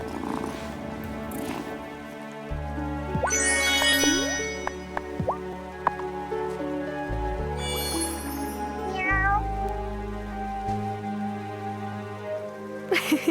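A cat meows repeatedly in the video game Wylde Flowers, several drawn-out cries over a bed of soft rain and steady background tones, with no talking.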